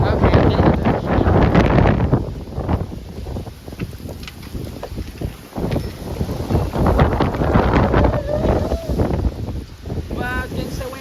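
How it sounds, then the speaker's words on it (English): Strong gusting wind from an approaching severe thunderstorm in Frisco, Texas roars loudly and unevenly across the microphone, rising and falling in bursts, with some faint voices. "Wow, it's getting so windy."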